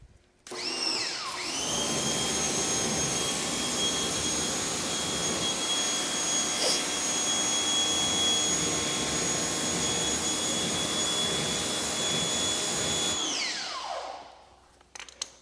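A high-pressure water spray rinses cleaner off the wheels of a Kia car, hissing loudly and steadily for about twelve seconds before cutting off, with a whine rising at the start and falling at the end.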